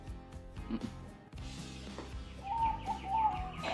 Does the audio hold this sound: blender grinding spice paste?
no